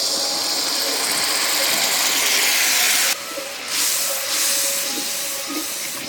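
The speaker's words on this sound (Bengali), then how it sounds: "এবার আমি পরিমাণ মতন জল দিয়ে দেবো।" Hot spice paste for a Bengali doi katla (rohu in yogurt) gravy hisses and sizzles steadily in a pan as water is poured in. The hiss is loud and broadband, then drops abruptly midway and continues as softer, uneven bubbling.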